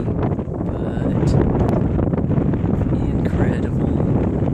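Strong wind on a high mountain pass in the Goat Rocks, buffeting the microphone with a loud, continuous rumbling roar that rises and falls slightly, with faint rustling above it.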